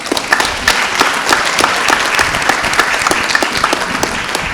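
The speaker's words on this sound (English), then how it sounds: "A round of applause." Sustained audience applause at a company annual general meeting, a dense wash of many hands clapping steadily and loudly for the whole stretch with no talk over it.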